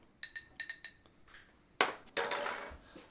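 Ice and liquid clinking in a glass as a cocktail with orange bitters is stirred, a quick run of light taps followed by louder rattling clinks and swishing, close and fairly quiet, with no talk.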